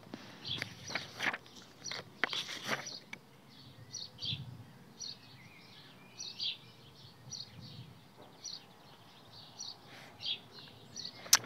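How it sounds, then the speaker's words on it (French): Small birds chirp in short, scattered bursts at a distance, soft and intermittent over a quiet background with occasional rustling. "Alors, on entend les petits oiseaux comme ça."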